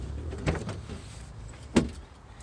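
Van-style rear doors on a van are unlatched and swung open, giving two soft mechanical clunks with a low rumble of handling between them, close by and without speech.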